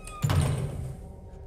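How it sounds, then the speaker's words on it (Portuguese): In the video game Resident Evil 4 Remake, a door swings shut against a character's leg, giving one heavy, dull thunk followed by a short low rumble that fades quickly. "Ele tá se mexendo, a porta fechando a perna dele."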